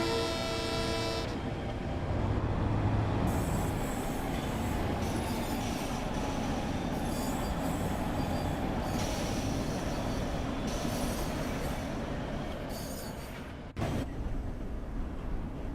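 Long Island Rail Road train running in Train Sim World 5, a steady rumble of wheels on track with squeals, a brief horn toot near the start and a sharp clunk near the end.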